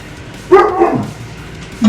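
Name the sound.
dog named Storm barking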